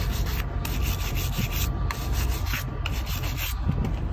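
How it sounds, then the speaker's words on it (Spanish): A small brush scrubs the battery terminals of a Volvo VNL truck in quick, steady back-and-forth strokes, a close, loud scratchy rubbing that continues without pause and with no one talking. "aquí con este cepillito le pulo lo que es los pegues de acá"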